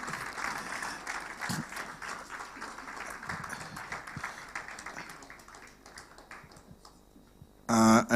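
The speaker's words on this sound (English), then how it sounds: "Please, can we give a round of applause, ladies and gentlemen?" An audience claps through a sustained round of applause at the 2022 NLNG postgraduate award ceremony. It is fairly soft and even at first, and a louder burst of sound cuts in right at the end.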